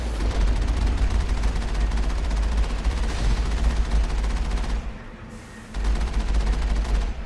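Rapid, sustained gunfire blasts away at turrets in the video game Mass Effect, a dense continuous barrage that briefly drops out before resuming, loud with no talk.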